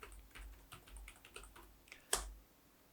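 Typing on a computer keyboard, a quick run of light, close key clicks ending in one louder keystroke, with no talk.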